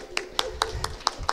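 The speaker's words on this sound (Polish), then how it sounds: "Dla niej brawa." A few sharp, evenly spaced hand claps ring out at an exhibition opening in honor of guest minister Anna Maria Anders, six distinct close claps in a steady rhythm over a quiet room with faint voices.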